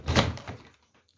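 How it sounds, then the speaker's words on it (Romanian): A newly installed folding door is pushed open in one short, close rattling slide with a soft thunk, fading out within a second. "Și acum vedeți cum va da ușa."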